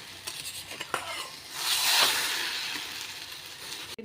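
A vegetable omelet sizzles in a frying pan as it is turned over, with a few light utensil clicks and scrapes first and then a louder, steady frying hiss that swells and holds close by.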